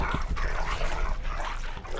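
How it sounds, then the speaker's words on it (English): A vicious dog in A Game of Thrones: The Game on PS3 barks and snarls in a rough, continuous burst, close and loud over a dense background. "Just a vicious dog."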